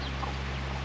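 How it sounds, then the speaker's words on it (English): Chickens on a small farm in the Philippines cluck briefly and faintly over a steady low background hum. "So these are the last of our chickens"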